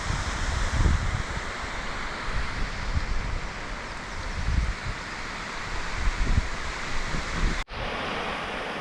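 A waterfall pours nearby in a steady broad rush, with gentle surges and a brief dropout near the end, and no one speaking.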